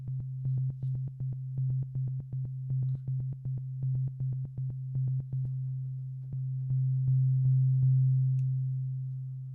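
Synthesizer tone from an Ableton rack: a steady low sine-like drone with a rapid rhythmic pulsing pattern stacked on top for about five seconds, then the drone continues alone with sparse clicks, moderately loud and close.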